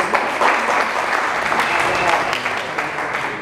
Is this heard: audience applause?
yes